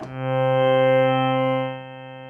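A single tone from the Arturia Synclavier-V additive synth, resynthesized from seven snapshots, with steady, evenly spaced harmonics holds for about two seconds, swelling slightly before fading down; no voices.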